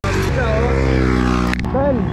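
A Kawasaki Ninja 400 motorcycle is ridden along, its engine holding a close, steady droning hum that dips briefly and picks up again, with someone talking over it.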